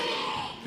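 Wrestling crowd roaring in support of BMD during a match against Bear Bronson, a brief dense wash of cheering with a dip and swell near the end.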